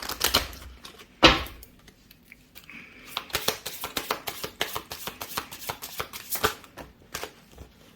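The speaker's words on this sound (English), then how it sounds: "One more shuffle." Tarot cards being shuffled by hand, a burst of quick riffling followed by a long series of crisp, irregular flicks and taps, close but fairly quiet with no talk.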